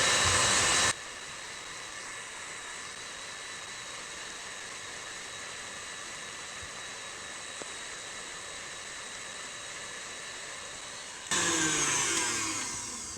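Electric mixer whipping cream for strawberry shortcake at full speed, a loud, steady high-pitched whir running about ten seconds alone, with brief louder bursts at the start and end.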